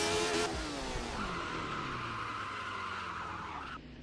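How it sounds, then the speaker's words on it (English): A 1970s Formula 1 car in a racing game locks its brakes and skids, a long tire squeal riding over the dropping engine note and fading out after a few seconds. "I'm gonna absolutely lock up the brakes"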